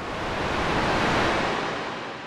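Noise oscillator of a Roland AIRA Compact S-1 synthesizer, modelled on the SH-101, producing a steady broadband hiss that swells and fades gently like surf, loud and alone.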